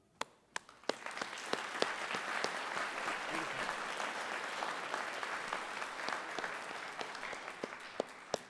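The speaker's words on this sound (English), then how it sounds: "Please join me in applauding and thanking the members of our audience" An audience at a high school graduation ceremony applauds steadily for several seconds after a few scattered opening claps, the clapping fairly distant and filling a large hall.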